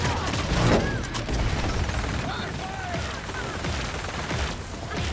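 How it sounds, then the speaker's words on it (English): Enemy gunfire in the Paladins game, a steady dense clatter of shots that fills the whole stretch, with game voices and effects mixed in. "They're firing on us."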